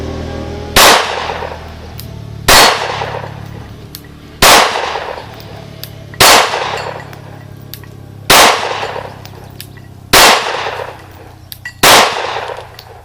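Seven sharp shots ring out from a Springfield XDs 9mm pistol firing steel-cased ammunition, evenly spaced about two seconds apart, each a loud close crack followed by a short echoing decay.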